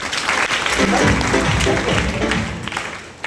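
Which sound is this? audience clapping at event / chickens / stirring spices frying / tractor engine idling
audience clapping at event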